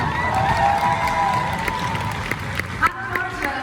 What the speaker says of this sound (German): einen Applaus für die Sandra doch mal.